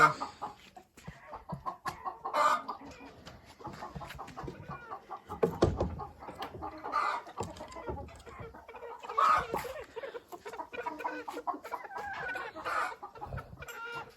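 Marans and Ayam Cemani chickens cluck steadily at close range, with short bursts of louder squawking standing out now and then over a quiet farmyard background.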